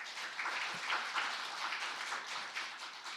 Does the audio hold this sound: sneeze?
no